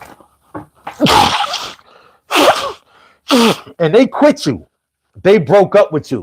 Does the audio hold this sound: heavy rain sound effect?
no